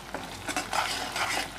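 Egg curry masala of garam masala, egg masala and coriander powder stirred in a pan with yogurt, close rhythmic scraping of a spoon against the metal over a soft sizzle, no voices.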